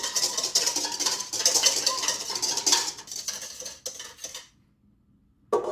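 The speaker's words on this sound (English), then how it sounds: "And I'm whisking it." A whisk scrapes steadily through egg yolks and a little water in a large bowl, a busy metallic clatter that fades out near the end, then a brief knock after a pause.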